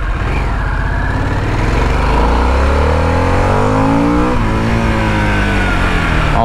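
A 2023 Harley-Davidson Sportster S 1250 motorcycle being ridden, its engine close and loud, revving up with rising pitch and steady accelerating roar, then holding a strong drone.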